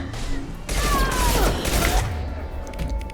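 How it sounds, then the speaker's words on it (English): Rockets fire in the video game Mass Effect 2: a loud, dense burst of blasts and whooshing lasting a little over a second, with mechanical clicks and rattles around it and a softer tail as it fades. "Right, rockets."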